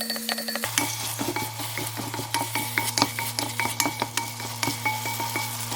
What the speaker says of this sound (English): I'm going to add one whole chopped tomato in here and mix.